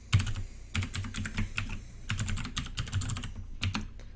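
Someone types an email address on a computer keyboard, a close run of quick, uneven key clicks in short bursts with brief pauses, no talking.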